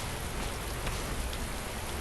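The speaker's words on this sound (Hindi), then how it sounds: "मैं अब इस बारिश के लिए कुछ नहीं बोलूँगा" Rain falls steadily and densely, a loud, even hiss of drops striking surfaces that continues without a break and with no talking.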